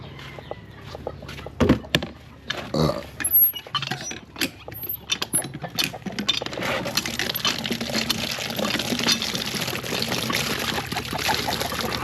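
Water pumped by hand and poured, splashing steadily in the second half after scattered knocks, with chickens clucking in the background of a rural yard.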